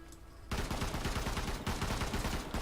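Gunfire from World War 3, a video game: a steady, loud rapid-fire burst of closely spaced shots that starts abruptly, runs continuously with a brief dip, then keeps hammering.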